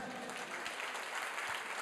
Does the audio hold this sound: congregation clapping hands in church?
yes